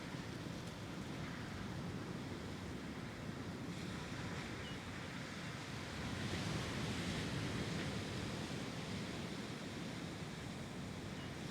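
Ocean surf washing steadily onto a sandy shore, a broad, constant roar that swells slightly midway, with some wind buffeting the microphone.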